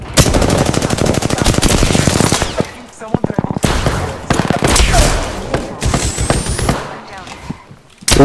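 Gunfire in Apex Legends during a squad fight, with rapid bursts of automatic fire and sharp shots coming in clusters and pauses, loud and close, alongside game voice lines.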